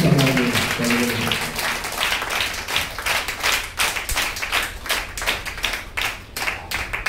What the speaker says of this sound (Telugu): అందరం కూడా ప్రేమపూర్వకంగా చప్పట్లు కొడుతూ దైవజనులు ఆహ్వానిస్తూ